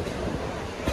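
Narayanadri passenger train running between Begumpet and Secunderabad, heard from inside a coach as a steady low rumble of wheels and carriage noise, with a slight bump near the end.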